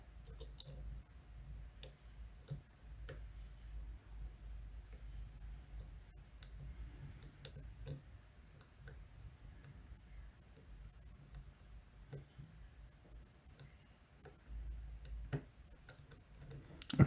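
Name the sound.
Medeco lock pins clicking while being picked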